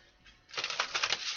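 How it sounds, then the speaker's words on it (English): A deck of cards being shuffled, a short close riffle of rapid papery flutters that starts after a quiet moment and runs to the end. "So one more shuffle here."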